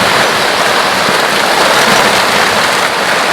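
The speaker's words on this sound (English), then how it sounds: "It's really starting to rain." Rain falls in Hawaii, a loud, dense hiss of drops pattering on leaves and surfaces, steady and close throughout with no voices.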